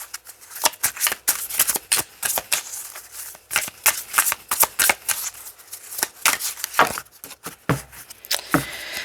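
Deck of tarot cards being shuffled by hand, a rapid run of crisp riffling flutters and soft slaps in uneven bursts, close and fairly loud, with no talk over it.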